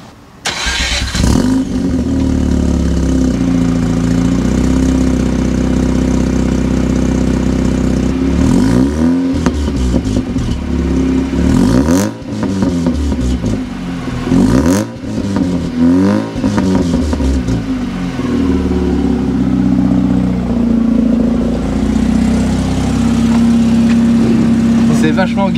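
A Mazda RX-8 rotary engine starts, settles into a steady idle, then gets several sharp throttle blips that rise and fall quickly, loud and close, with people talking over it.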